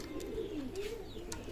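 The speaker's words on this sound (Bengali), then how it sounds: "এখানে এক পেয়ার কবুতর আছে" A pair of Teddy pigeons coo, a low, warbling, continuous murmur with soft rises and falls, close by, alongside a few faint higher chirps.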